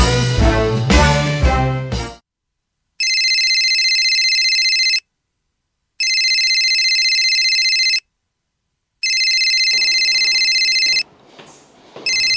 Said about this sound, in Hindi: ओ किसका फोन आ गया यार?